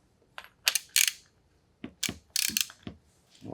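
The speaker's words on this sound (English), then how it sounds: "Use a deep well socket, 24 mil." Deep well 24 mm socket wrench tightening a part of an FX Crown MKII airgun by hand, giving several short bursts of metallic ratcheting clicks with brief pauses between, close and fairly loud.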